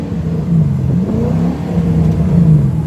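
A Ford Mustang's engine revs steadily and loudly up close, its droning tone wavering and climbing without settling, as the faulty transmission fails to grab third gear.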